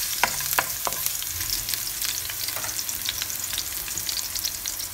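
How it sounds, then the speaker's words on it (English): Garlic and onion fry in hot oil in a pan, a steady close sizzle broken by a few sharp clinks and scrapes as the pieces are stirred around. "ilalagay na natin ang garlic at onion. Ayan. Tapos, i-mix lang siya natin"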